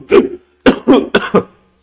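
A single loud cough, then a short pause and a rapid run of three or four harsh coughs, close and with no other sound.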